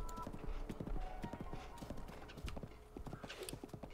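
Horse hooves in The Legend of Zelda: Breath of the Wild clip-clop in a quick, steady rhythm, close and fairly quiet, with a brief whinny mixed in.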